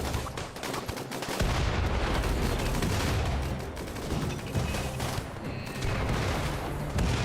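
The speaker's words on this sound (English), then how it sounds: "Here come the triple rockets." Loud, sustained barrage of Doomsday triple rocket launcher fire and gunfire in RimWorld, overlapping explosive bursts and rattling shots packed densely throughout with no pauses.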